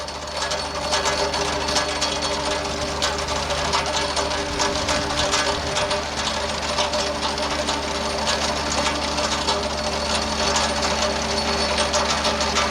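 A shiny farm tractor mowing hay, its engine droning steadily and close with a dense mechanical rattle and whir from the mowing gear, loud and continuous throughout.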